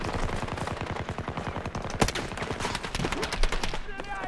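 Rapid automatic gunfire in a first-person shooter game, dense repeated shots in steady bursts with a sharper crack midway, loud and close, with a voice briefly heard under the shooting.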